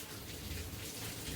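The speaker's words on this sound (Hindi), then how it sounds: "क्योंकि बारिश बहुत तेज़ चल रही" Heavy rain pouring down outdoors, a steady, dense hiss of drops heard from indoors, even and continuous with no voices.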